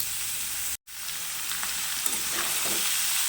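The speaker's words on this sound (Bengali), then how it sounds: "এটাকে একটুখানি ভালো করে ভেজে নেব" Chopped potato, beet and carrot fry in a pan with ginger for a vegetable chop filling, giving a steady close sizzle and hiss with light stirring scrapes, broken by one brief silent gap early on.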